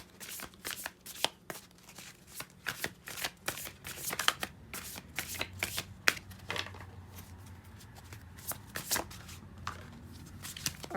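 Spellcasting cards are shuffled close up for a reading in a run of crisp, rapid riffles and flutters, with brief pauses between bursts.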